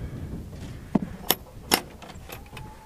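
Metal latch and hinge hardware on a mobile chicken coop door clack and rattle in a few sharp knocks, close and fairly loud, with quiet shuffling between them.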